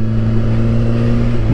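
Suzuki GSX-R1000R motorcycle with quick shifter and auto blipper accelerating hard during an overtake, a steady close engine drone with strong low harmonics that holds loud throughout, ending in a brief shift.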